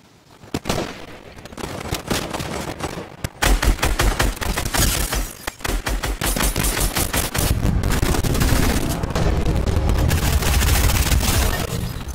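Gunfire in the video game Fortnite, including shotgun blasts: loud, dense, rapid shots rattling almost without pause, building into a sustained barrage with booming low impacts.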